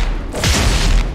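A heavy, booming explosion from a spinning bomb in the Fortnite video game, loud and close, with a deep rumbling burst that swells about midway and fills the short moment on its own.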